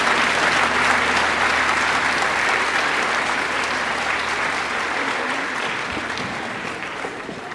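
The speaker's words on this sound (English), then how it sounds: "Another round of applause for that great performance." Audience applause at a high school Veterans Day program, steady dense clapping filling the room and slowly tapering toward the end.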